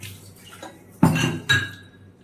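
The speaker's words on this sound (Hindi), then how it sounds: "हाथों का चाय का बर्तन भी साफ कर देती हूँ" A tea pot and a glass bowl are washed by hand, with two sharp clinks of glass and metal against each other close up. No voices.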